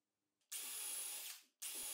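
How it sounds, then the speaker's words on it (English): A power drill bores through wooden parts of a portable table saw stand, guided by pre-drilled holes: two loud, steady whining bursts, the first about a second long and winding down, the second starting after a short pause. "I'll use the previously drilled holes as a guide to finish drilling the other parts"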